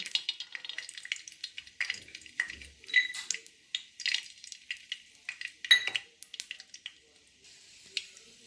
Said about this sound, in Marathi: सुरुवातीला थोडंसं तेल टाकायचं या तेलामध्ये शेंगादाणे तळायला टाकायचे